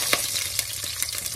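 Dried and green chilies frying in hot oil in a pan for Telugu-style beetroot sesame rasam, a steady close crackling sizzle with small sharp pops and stirring scrapes, no voices.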